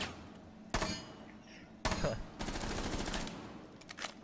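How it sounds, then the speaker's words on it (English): Gunfire in the Rainbow Six Siege video game: a sharp shot near 0.7 s, another at 1.9 s, then a rapid automatic burst from about 2.4 to 3.5 s and a last quick shot near 4.1 s, fairly close and loud. "Where is this guy shooting me from?"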